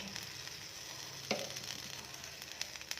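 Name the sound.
tomatoes added to sizzling bread omelette pan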